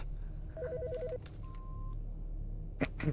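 In the video game Autopsy Simulator, a phone gives a short warbling electronic ring followed by a steady beep tone, fairly quiet over a low background hum, with a couple of soft knocks near the end.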